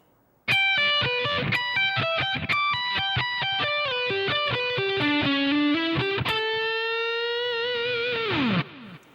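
A distorted electric guitar slowly plays the Symphony of Destruction solo, picking single sustained notes one after another and ending on a long bend that slides down before cutting off.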